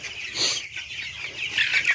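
Broiler chickens clucking in a poultry shed, a continuous busy cackle of several birds nearby with some wing flapping, no voices over it.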